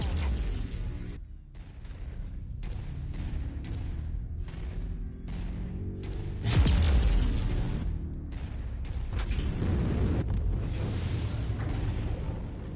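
Mech explosion in MechWarrior 5 amid a battle: a rapid series of booming bursts, then one heavier deep blast midway, followed by more rumbling impacts, loud and close throughout.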